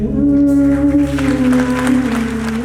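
Theatre audience applauding after a stage performance, a loud, steady wash of clapping from a full house over a low sustained musical drone.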